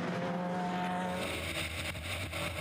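Ferrari race cars roar past on a circuit during a GT championship race, a dense, loud engine wash with shifting pitch as the cars go by together, no voices.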